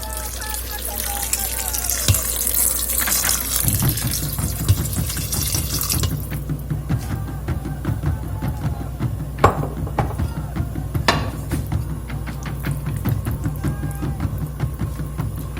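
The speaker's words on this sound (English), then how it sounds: "to this mixture I'm just gonna add some water" Water runs from a tap and pours into a pot of quinoa and black beans, filling it just enough to cover them; a steady gushing splash that shifts tone partway through, close by with no talk.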